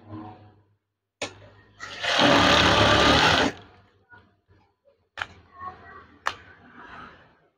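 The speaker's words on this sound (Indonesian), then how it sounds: "Dan jahit lagi." Sewing machine stitching folded curtain fabric in one loud, close burst of under two seconds, followed by soft handling sounds and sharp clicks as the cloth is moved.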